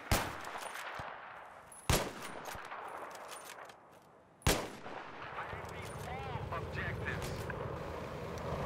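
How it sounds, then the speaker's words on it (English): M40A5 and L96 sniper rifles fire in Battlefield 3, three sharp, loud single shots spaced a couple of seconds apart, each followed by a rolling echo and tail over quiet game ambience. "With the M40A5, I'm shooting towards the right side of the building, and with the L96, I'm shooting a little bit more towards the left."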